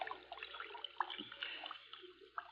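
Water in a stream being disturbed as a body is laid face down, with faint, close splashes, drips and trickling that come in small irregular bursts against a quiet background.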